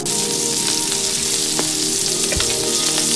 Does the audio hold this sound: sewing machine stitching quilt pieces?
no